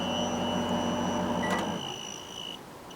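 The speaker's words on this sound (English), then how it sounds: "how about we start the microwave here?" A microwave oven runs with a steady electrical hum and a high whine, then cuts off after a couple of seconds, leaving a quieter fading tail, all at a modest level.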